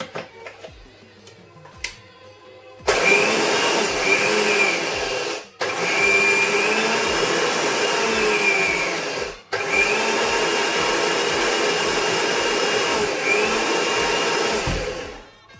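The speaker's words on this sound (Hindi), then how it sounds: "ऐसे करके पीस लेना है संगवारी हो।" A mixer grinder grinds tomato chutney in loud, steady whirring bursts, with three long runs separated by brief stops and quiet handling clicks before it starts.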